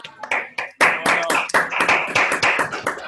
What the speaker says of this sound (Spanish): Vamos con el aplauso.